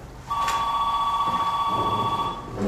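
A telephone ringing indoors during a theology lecture, one electronic warbling ring tone lasting about two seconds, clear and fairly loud with no talk over it.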